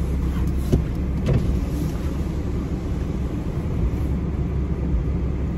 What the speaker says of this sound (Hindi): गाड़ी निकालने से पहले गाड़ी को रेडी करना पड़ता है